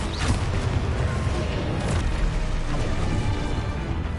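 Confringo fire spell blasts in Hogwarts Legacy, a dense, boomy burst of explosive energy filling the whole stretch with rumbling low-end crackle and a couple of sharper flares, loud and continuous.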